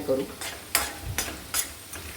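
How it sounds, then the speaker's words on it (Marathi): Dhaba-style mixed vegetables fry quietly in a pan while a spatula stirs them in a few distinct scraping strokes over a low, steady sizzle. "अजून थोडं फ्राय करून घ्या"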